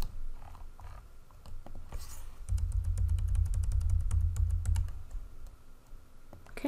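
Computer keyboard keys pressed during a digital design task, a quick run of crisp clicking taps close up, steady for a few seconds over a low rumble, with no talk.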